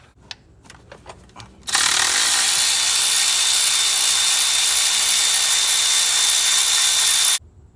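Ratchet on a long extension loosening spark plugs deep in the engine bay of a Ford 6.2, a few faint clicks first, then a loud, steady, continuous buzzing whir lasting several seconds before stopping abruptly.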